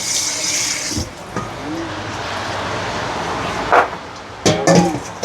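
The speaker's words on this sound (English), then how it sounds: "Add some water." Running tap water pours into a pot with a steady hiss, interrupted by a few clinks and knocks near the end.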